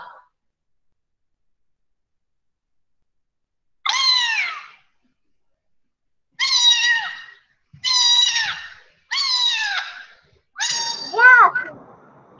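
A recording of a cat meowing plays several times in separate calls, spaced a second or two apart, in an otherwise quiet preschool classroom, the last calls more strained.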